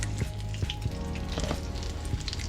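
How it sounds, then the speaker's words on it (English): Crispy fried crappie fish pieces set down on a plate, a faint crackling sizzle with a few light taps and rustles, quiet and close, no voices. "Very crispy sounding when it hits this plate."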